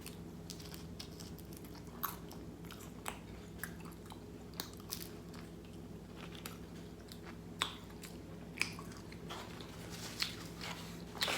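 Crunchy tacos are chewed close to the microphone, with repeated soft crunches and occasional sharper bites over a steady low background hum, and no talking.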